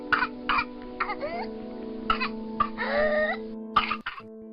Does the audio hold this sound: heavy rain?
no